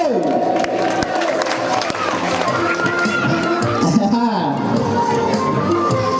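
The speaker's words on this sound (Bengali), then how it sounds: "জিমের জন্য আবার একটা হাততালি হবে" A crowd applauds and cheers for a first-place prize winner at a school pre-annual exam results ceremony, a steady loud wash of clapping and voices lasting throughout.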